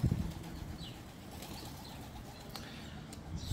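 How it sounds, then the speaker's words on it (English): A flock of hungry pigeons waits for food in New Jersey, with soft flutters of flapping wings near the start and end and faint low cooing under quiet outdoor ambience. "There's so many pigeons waiting for their food."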